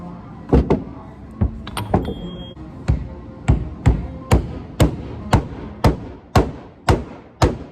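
Hammer blows drive a Kryptonite ball joint into a Duramax lower control arm, about a dozen loud, sharp metallic smacks ringing out close up in a steady, quickening rhythm with no talk over them.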